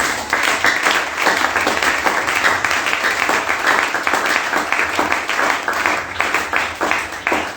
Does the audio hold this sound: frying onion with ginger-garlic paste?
no